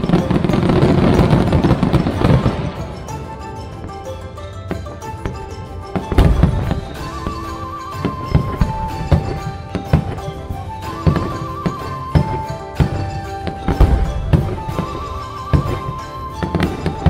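A fireworks display over the lake at Kawaguchiko near Mt. Fuji, with a roar of crackling at the start, then repeated deep booms and bursts with crackles echoing across the water, loud, with faint background murmur.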